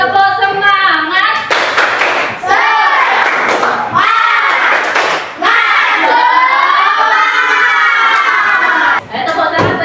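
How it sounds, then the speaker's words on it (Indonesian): Children in a classroom do a rhythmic clapping cheer, chanting loudly together between sharp, synchronized bursts of hand claps, with brief pauses in the pattern. "ayo kita tepuk semangat dulu dah. Tepuk semangat."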